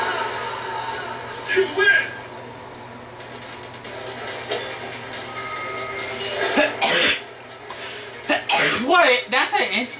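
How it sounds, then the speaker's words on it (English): A sneeze bursts out during play of Ultra Street Fighter IV on PS3, a sharp short outburst mixed with coughing and throat noises over steady game sound and talk. "I just sneeze."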